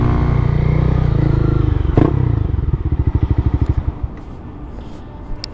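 A Honda CB300F motorcycle runs nearby with a loud, steady engine drone, a thump midway, then the revs drop into a slower chugging idle that fades.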